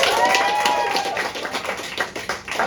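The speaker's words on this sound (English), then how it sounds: "Clap it up for Thom." Live comedy game show audience clapping for a contestant as he is introduced, a dense, close burst of applause that runs steadily for a few seconds and tapers near the end.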